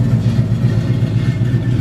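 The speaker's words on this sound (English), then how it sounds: "Good running car. Nice throaty sound. Dual exhaust going all the way out the back." A 1969 Ford Mustang Mach 1 engine with dual exhaust idles steadily up close, a deep, throaty rumble with a smooth, even pulse and no voices.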